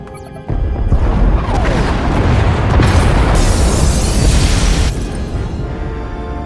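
Escape pod bays blow apart aboard a ship in Star Wars: The Old Republic, a sudden loud explosion followed by several seconds of rumbling, crashing debris that gradually fades.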